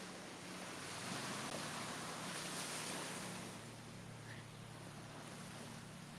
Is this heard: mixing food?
no